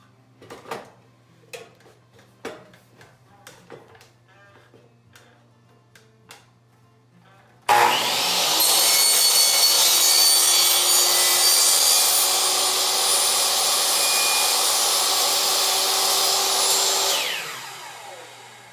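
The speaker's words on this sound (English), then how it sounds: "I will straighten up the table saw and cut off the miter from the bottom of the baseboard to the lip." A table saw cuts the miter off the bottom of a baseboard, a loud sustained whining cut that starts abruptly after a few light taps and handling sounds, then spins down near the end.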